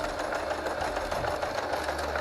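A sewing machine stitches a small test swatch with a continuous, rapid mechanical whirring and fine rhythmic chatter, steady and close throughout.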